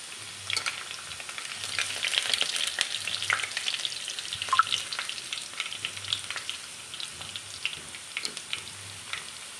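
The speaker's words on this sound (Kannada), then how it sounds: "ಸಾಸಿವೆ ಸಿಡಿದ ನಂತರ ಇದಕ್ಕೆ ಬೆಳ್ಳುಳ್ಳಿಯನ್ನು ಹಾಕಬೇಕು ಸಜ್ಜಿದ ಬೆಳ್ಳುಳ್ಳಿಯನ್ನು ಹಾಕಿ" Chopped garlic tossed into hot oil with spluttering mustard seeds for a banana stem stir-fry sizzles steadily, with scattered crackles and pops throughout and a faint low hum underneath; no one speaks.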